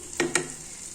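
Chickpea curry seasoned with roasted coriander powder sizzles in a pan, with two quick stirring scrapes standing out over a steady low frying hiss, close and alone.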